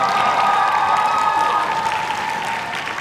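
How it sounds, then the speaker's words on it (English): Audience at a Lolita fashion show claps warmly for a designer, a full, close round of applause with a few cheers mixed in, easing off slightly toward the end. "Another round of applause for Poobie Belle."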